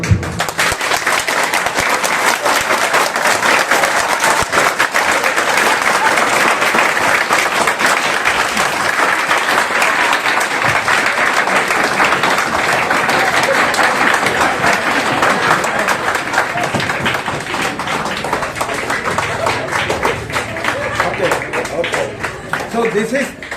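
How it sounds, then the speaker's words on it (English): A large audience at a university lecture by a vice-chancellor breaks into loud, sustained applause, dense clapping that fills the room for more than twenty seconds and only eases slightly toward the end. "I requested you to clap. You clap it with full potential."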